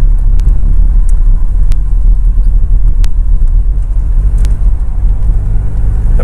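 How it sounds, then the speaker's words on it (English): Steady low engine rumble from inside a moving Lotus Excel, loud and constant, with faint occasional clicks and ticks over it. "this is a Lotus Excel, which is quite an interesting one to drive"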